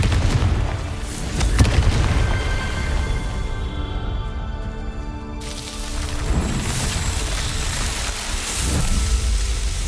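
The Confringo spell in Hogwarts Legacy explodes with booming blasts that rumble over a continuous rain-like hiss, a loud burst early on and more impacts later.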